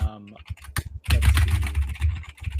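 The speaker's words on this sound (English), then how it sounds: "he's still rage typing" Angry, rapid typing on a computer keyboard, a dense burst of hard clattering keystrokes near the mic, mixed with a few voices talking over it.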